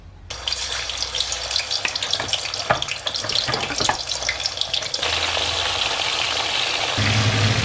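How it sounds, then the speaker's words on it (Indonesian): Chicken seasoned with salt, garlic powder and pepper frying in oil, a dense, steady sizzle and crackle up close with scattered pops, swelling louder toward the end. "Terus digoreng terlebih dahulu."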